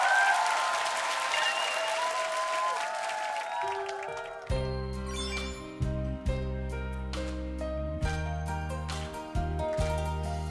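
Audience applause greets a trot singer on a live TV singing show, a dense clapping wash that fades as band music swells in beneath it.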